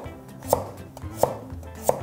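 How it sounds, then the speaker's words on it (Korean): A knife julienning potato on a cutting board, three crisp, evenly spaced chops against the board over a quiet background. "감자는 요거에 한 반 정도만 쓰시면 되고, 반 요거 채 썰어 쓸 거예요"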